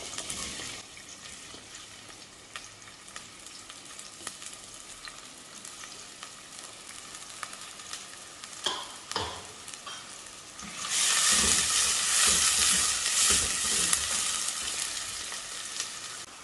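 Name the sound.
onions sautéing in a pan for mutton salna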